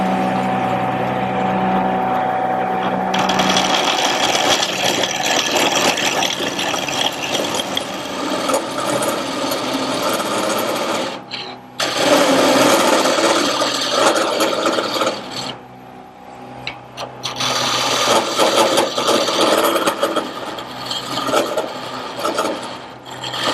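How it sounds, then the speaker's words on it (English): A gouge cuts a wooden table leg turning on a wood lathe, rounding it to about an inch in diameter. Continuous loud scraping and whirring runs throughout, with a few short pauses where the tool lifts off. "use a gouge on the tool rest, and up here at this point I want to just make it round"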